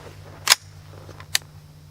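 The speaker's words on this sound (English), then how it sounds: "So let's put a few rounds through it" Two sharp .22 rifle shots from a Winchester Wildcat ring out at an outdoor range, the first near half a second and the second about a second later, with a steady low hum underneath.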